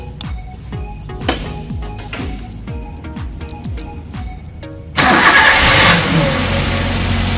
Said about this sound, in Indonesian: Sekarang tinggal memanaskan kendaraan terlebih dahulu.